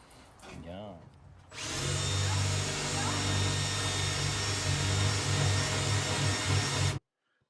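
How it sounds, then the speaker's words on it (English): A power drill bores out rivets in an old metal file cabinet, a loud, steady whine running continuously for about five seconds before cutting off abruptly, preceded by a brief voice. "I'm just going to drill those out, make it look nicer"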